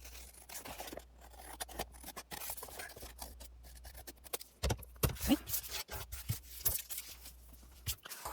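Scissors snip and scrape along a decorated paper envelope at close range, producing quiet, scratchy cuts with irregular pauses and no talking.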